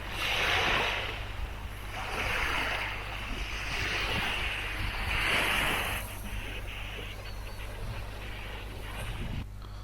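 Surf rolls in at Dukhan beach in Qatar, a steady wash of waves rising and falling every couple of seconds with wind buffeting the microphone, no voices.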